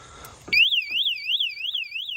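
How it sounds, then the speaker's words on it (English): A shrill electronic alarm from a fat-tire e-bike's lock bursts on after a short rustle and warbles rapidly up and down, loud and close, continuing without pause. "it lets off the alarm"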